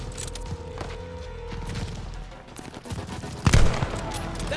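Rifle fire in Call of Duty Vanguard during the Battle of El Alamein: a rapid series of gunshots with mechanical clicks in between, ending in a louder, heavier burst near the end.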